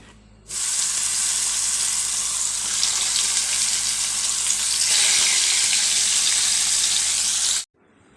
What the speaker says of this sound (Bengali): মাছটাকে প্রথমে ভেজে নিয়ে নেব একটা তাওয়া দিয়েছি সর্ষার তেল